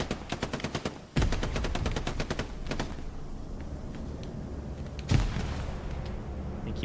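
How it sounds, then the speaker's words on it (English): Gunfire and grenade blasts in the World War II shooter Hell Let Loose: rapid automatic bursts, then a heavy explosion followed by sparser shots, with a second blast near the end. "he's just spamming grenades"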